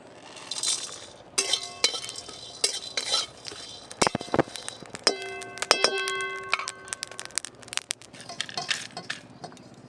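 Whole cumin, two bay leaves and peppercorns dry-roasting in a pan for Bengali muittha masala, with dry clinks, taps and scrapes of a spoon against metal, close and intermittent with no talk.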